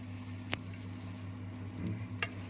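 Cumin, asafoetida and turmeric tempering sizzles steadily in hot oil, a close, continuous crackle with two sharp pops and a brief stir, no talking.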